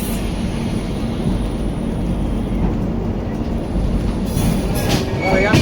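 A train leaving Saharanpur, India, rumbles along with steady, loud low-pitched noise and rattling, continuous throughout with no voices standing out.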